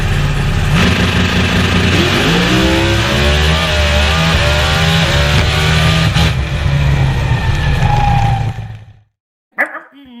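Pro Mod drag race cars roar at full throttle, a loud sustained engine blast with rising pitch as they accelerate down the strip, cutting off abruptly near the end before a brief burst of noise.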